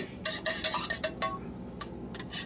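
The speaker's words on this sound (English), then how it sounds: "And then I stir it up." A spoon clinks and scrapes against a bowl as liquid stevia is stirred in, making short, close, irregular bursts of clatter over a couple of seconds.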